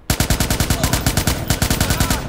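Rapid automatic gunfire from a Watch Dogs shootout, a steady burst of about twenty close, loud shots in quick rhythm with no talking.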